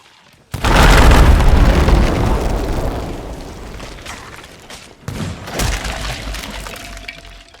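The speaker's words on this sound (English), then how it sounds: "And from that explosion, it's safe to say we all thought Grey Marrow was gone." A loud explosion in the pirate video game Sea of Thieves: a sudden heavy boom that rolls and crackles for several seconds, then a second burst of debris and rumble fading out.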